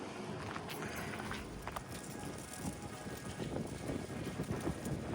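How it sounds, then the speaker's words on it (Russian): Steady outdoor wind in Copenhagen rushing and buffeting the microphone, with a low rumbling roar and faint crunching underneath, continuous throughout. "Не знаю, вы слышите этот ветер или нет."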